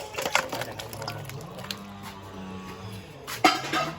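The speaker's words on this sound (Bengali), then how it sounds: "চিকেন কষাটা হয়ে গেছে সেটাকে এখন বড় মা ঢেলে নিচ্ছে" Cooked chicken curry being tipped out of a cooking pot in a home kitchen: metal clinks and scrapes of pot and utensil, with soft sloshing between a few sharper knocks near the start and end.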